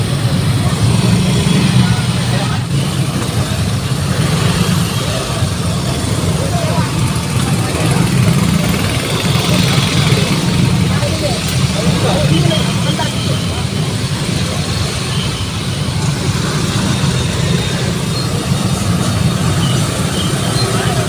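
Dense night traffic jam with motorcycles and cars packed together, a steady blanket of idling engines and road rumble, with someone talking over it.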